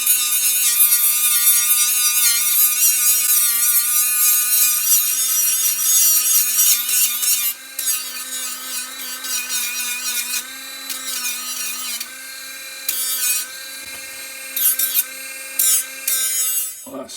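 A Ryobi USB 4V cordless rotary tool fitted with an 80 grit flat wheel smooths down a wooden workpiece, giving a steady high-pitched motor whine with rasping abrasion that runs continuously and close, dipping briefly as pressure shifts.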